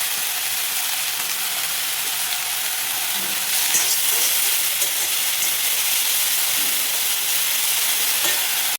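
Broccoli and onions fry in oil in a kadai, giving a steady loud sizzle and hiss that grows slightly denser partway through. No one speaks over it.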